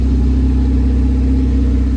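A Ford Focus ST engine idles steadily, a constant low mechanical hum with an even, unchanging rhythm and no revving, close and fairly loud with no voices over it.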